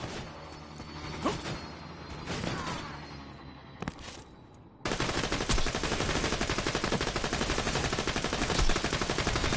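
Heavy Borderlands 2 video game gunfire: scattered shots over a first stretch, then a sudden dense, continuous barrage of rapid automatic fire that stays loud to the end.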